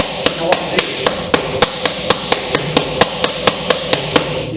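Rattan sticks clack together in a Sinawali martial arts drill, sharp woody strikes in a steady, even rhythm of about four per second, loud and close with no talk.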